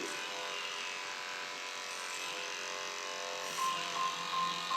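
Electric hair clippers trim a neckline with a steady, close buzzing whine that holds an even level throughout and swells slightly near the end, with no talking.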